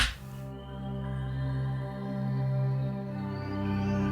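Undersea 1, a jungle sample-pack sound: a steady, sustained tonal pad with a brief bright swell at the start, holding a low drone with slowly shifting harmonics at moderate level throughout. No voices.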